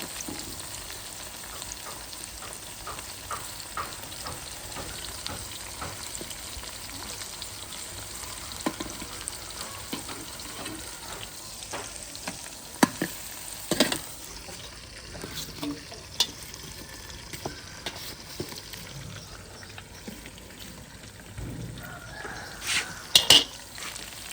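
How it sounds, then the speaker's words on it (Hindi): Okra (bhindi) frying in a pan, a faint steady sizzle over a long stretch with scattered clinks and scrapes of utensils against the pot and occasional sharper knocks. "भिंडियाँ फ्राई कर रही हूँ।"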